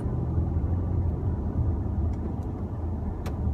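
A 2015 Ford Taurus SHO AWD with a 3.5L twin-turbo EcoBoost V6 drives along in a steady, close low rumble with faint road noise and a few light clicks.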